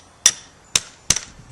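Three sharp, ringing hammer strikes drive 10-inch spikes through plastic edging along a paver patio, evenly spaced about half a second apart, loud and close with short decays and no voices.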